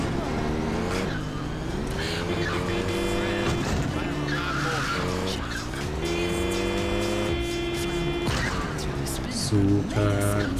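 A car in the GTA2 video game skids on its own oil slick. Long tire squeals and a droning engine run through it, with game music and someone talking over them.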